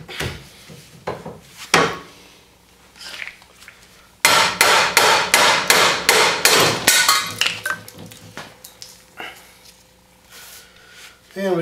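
A front A-arm being worked out of a 2015 Polaris Wildcat Sport during a bushing job: a scattered clunk and scrape, then a rapid run of about a dozen loud, evenly spaced hammer-like knocks, then more rattling and thuds.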